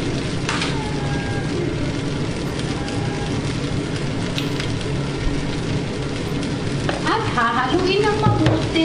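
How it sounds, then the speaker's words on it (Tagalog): Tocino fried rice being stirred in a hot pan, a steady loud sizzle with scraping of the spatula throughout, a voice talking briefly near the end. "Haluin ng mabuti hanggang sa maluto yung fried rice."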